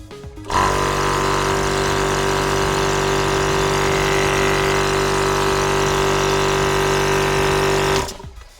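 A high-pressure air compressor starts up and runs at a steady, loud mechanical drone for about seven and a half seconds before shutting off.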